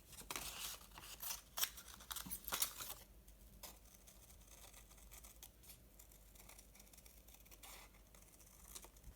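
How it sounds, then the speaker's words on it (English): Scissors snipping through paper in quick bursts, crisp cuts clustered early then sparser, close by with soft rustling between. "I'm going to use my scissors."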